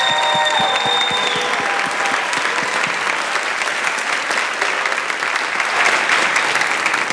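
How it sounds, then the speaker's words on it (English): An audience at a high school band winter concert breaks into sustained clapping, dense and even across the whole stretch, with a few individual claps standing out and faint crowd murmur beneath. "can you please stand up so that we can at least clap for you and acknowledge you?"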